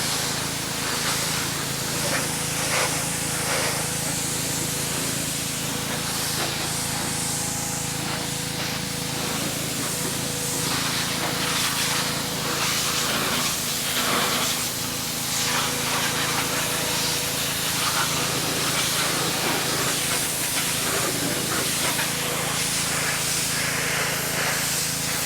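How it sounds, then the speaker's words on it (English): A pressure washer sprays water in a continuous loud hiss while cleaning a Porsche Cayenne engine, the spray shifting and spattering against the surface throughout. "let me set up my pressure washer and get that going"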